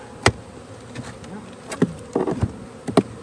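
Honeybees buzz around an opened hive, a constant insect drone with several close bees zipping past the microphone in short, louder bursts.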